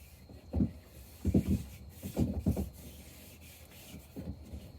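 Oil rubbed by hand into a wooden axe handle on a 3 lb wedge axe: soft, close, quiet rubbing strokes in short repeated bursts with brief pauses between them.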